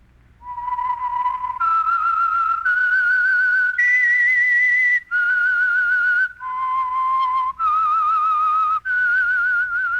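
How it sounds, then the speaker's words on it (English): The Whistler radio program's theme: a melodic whistled tune, clear and close, moving through a short phrase of sustained notes with brief breaks between them. "That whistle is your signal"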